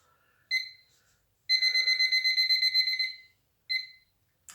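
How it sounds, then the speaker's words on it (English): A small electronic timer set for a classroom arithmetic speed drill beeps in high, clear tones: a single beep, then a quick rapid string of about a dozen beeps, then one more beep, close and alone. "and I shall set the timer"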